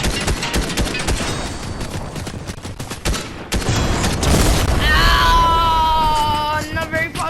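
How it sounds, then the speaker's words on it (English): Rapid bursts of automatic gunfire fill a rocket-equipped video game battle, dense and loud from the start, with a brief gap near the middle before firing resumes, then ringing tonal game effects and an electronic whine toward the end. "you can actually try firing a few shots at it"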